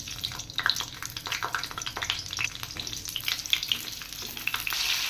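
Pointed gourd (potol) frying in hot oil, a steady close crackling sizzle with dense popping spatters that continues without pause.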